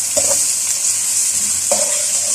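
Onions sautéing in a pan for qeema, a steady close sizzle of frying with a couple of louder stirring scrapes against the pan, no talking.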